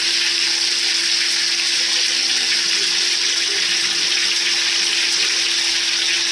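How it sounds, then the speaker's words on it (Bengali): Chicken frying in oil on a nonstick tawa gives a steady, dense, close sizzle with a faint constant hum underneath and no break for about six seconds. "এখন এটা ভালোভাবে ভেজে নিতে হবে"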